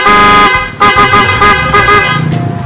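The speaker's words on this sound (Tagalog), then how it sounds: "Try natin bumusina." A loud Kawasaki Barako motorcycle horn honks close by in a few sustained blasts with brief breaks between them.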